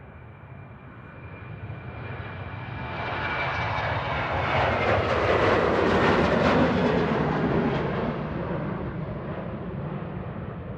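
A 13-year-old Ryanair Boeing 737-800 takes off from Manchester Airport, its jet roar swelling to a loud peak midway and then easing slightly as it climbs away, steady and continuous.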